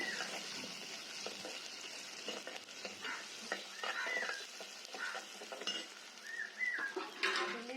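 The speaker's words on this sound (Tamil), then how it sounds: "வெங்காயம் பச்சை மிளகா போட்டு நன்றாக வதக்கவும்" Onions and green chilies sauté in a pan for a fish curry, giving a steady, close sizzle broken by frequent scraping and clinking of a stirring spoon against the pan.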